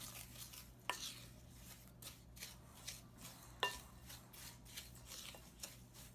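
Crumbs and melted butter for a New York cheesecake crust being mixed quickly in a bowl, giving soft repeated scraping strokes and a couple of light clinks, faint and close.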